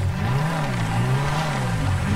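An old Maruti Suzuki 800 car driving in GTA 5, its small engine humming steadily with a rising and falling drone as it revs and eases, close and continuous with no talking.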